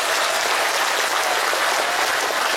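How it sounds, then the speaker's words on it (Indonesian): Audience applause at a speech event in Indonesia, a dense, even wash of many hands clapping together, loud and sustained with no pause, and no voice on top. "Tepuk tangan untuk BSKJ."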